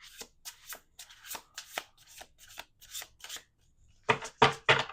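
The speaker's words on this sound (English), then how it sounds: "We're going to do 2 more shuffles after this." Tarot cards being shuffled by hand in a run of quick, crisp riffles and slides, then a louder burst of shuffling at the end, close and otherwise quiet.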